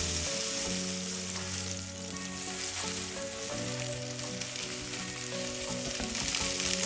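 Egg and vegetables sizzle steadily as they are stir-fried in a pan, a constant frying hiss over low, sustained musical tones in the background.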